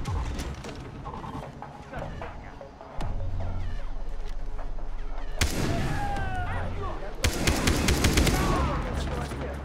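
Mounted machine gun in the shooter game Far Cry 3, rapid bursts of gunfire that grow louder and denser partway through, with sharp cracks and other game sounds layered over a steady low rumble.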